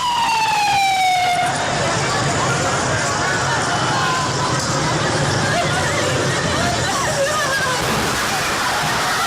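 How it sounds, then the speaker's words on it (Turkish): A wailing ambulance siren sweeps over a loud, chaotic scene of crowd babble and rushing noise after a bombing in Reyhanlı, continuous throughout. "Ambulans seslerini duyuyoruz."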